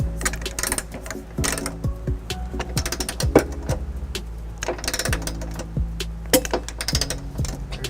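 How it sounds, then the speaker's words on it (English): A torque wrench with an 18mm socket tightens nuts during a trailer hitch installation on a 2005 Ford Escape, giving bursts of rapid ratcheting clicks at close range with brief pauses between strokes. "This torque wrench here is gonna give us a popping noise."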